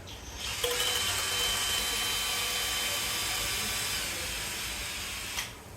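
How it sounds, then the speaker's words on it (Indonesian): A power drill whirs steadily at high speed for several seconds, spinning a homemade semi-manual espresso machine part, starting abruptly and stopping near the end, close by with no talking. "lakukan bantuan putaran pakai bor listrik seperti yang saya lakukan"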